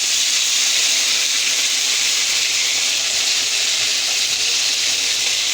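Ground spice paste of ginger, chili and cumin sizzles in hot oil in a pan, a steady, loud frying hiss throughout.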